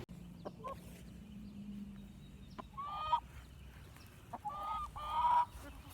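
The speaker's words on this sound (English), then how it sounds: "We're going to start in the chicken coop to get some fresh eggs." Chickens in a farm coop cluck and squawk in short bursts, fairly close, with quiet background noise and faint voices.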